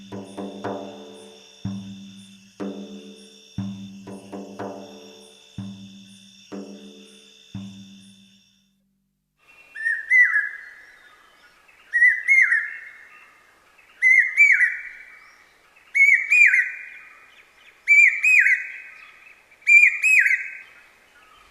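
A common hawk-cuckoo, the brain fever bird, calls in Assam, India, in February: a series of about six loud, rising, shrill phrases repeated at regular intervals, clear and alone after a preceding rhythmic tonal pattern.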